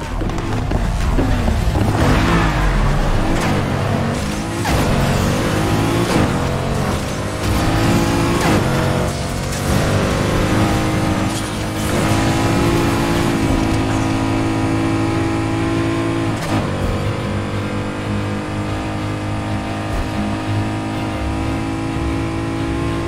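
Cars in the racing game Need for Speed Heat rev hard and accelerate, engine pitch sweeping up and down repeatedly with gear shifts, loud and continuous with occasional tire squeals and no talk.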